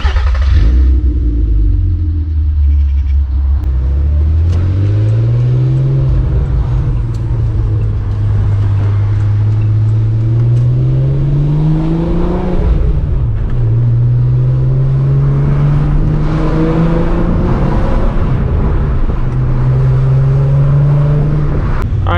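A Volkswagen R32 drives and accelerates through repeated gears, its engine note climbing steadily and dropping at each shift in a loud, close rising drone.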